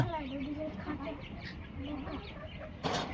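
Chickens cluck and call in a coop on a small farm while they are given water, with a person talking over the steady background of birds.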